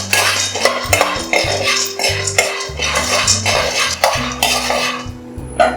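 Roasted gram being dry-roasted in a pan, with loud, busy metallic scraping and rattling from a spoon stirring against the pan and only a faint sizzle underneath.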